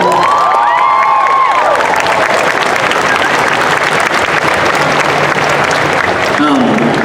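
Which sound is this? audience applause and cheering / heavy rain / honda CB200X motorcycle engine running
audience applause and cheering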